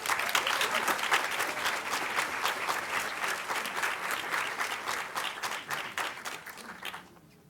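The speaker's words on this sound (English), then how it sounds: "So please, round of applause for Dr. Engstrom." A conference audience claps to welcome a speaker, dense sustained applause from a large crowd that carries evenly for about seven seconds before fading out quickly at the end.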